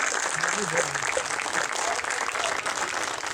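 A theatre audience applauds after a Hindi stage play, with dense, steady clapping that fills the hall evenly throughout and a faint voice underneath.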